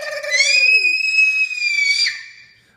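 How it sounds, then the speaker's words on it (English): A young child lets out a loud, high-pitched scream at home after dinner, one sustained shriek lasting about two seconds that rises and then trails off. "That's a loud scream."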